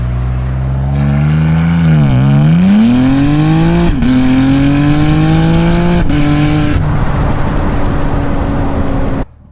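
A 2024 BMW M3 G-Power Competition accelerates hard, its engine a loud, close roar climbing steadily through several gear shifts with brief dips between, running continuously until it cuts off abruptly at the end.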